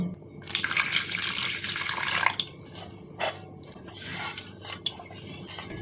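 Water pours into a bowl of chilli soya batter made with cornflour, soy sauce, Kashmiri red chilli powder, garam masala and pepper, a close splashing stream followed by softer sloshing and stirring, with no talking.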